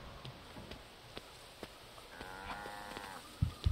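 Cattle in the video game Guild Wars 2 moo in a quiet game soundscape, with a drawn-out moo in the middle, scattered soft clicks and ticks, and a couple of brief louder bumps at the end.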